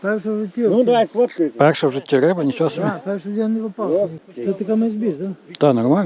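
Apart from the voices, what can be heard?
No everyday noises stand out.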